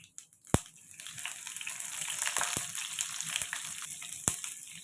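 Onion frying in hot oil with chana dal and mustard seeds, a steady close sizzle that builds in intensity, punctuated by a few sharp pops and spoon clinks against the pan.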